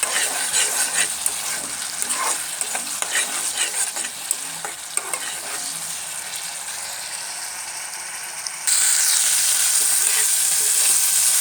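Tomato chutney cooking in a pan, stirred with a spatula: a steady wet sizzle and bubbling with repeated scraping strokes, then a sudden louder, brighter hiss near the end.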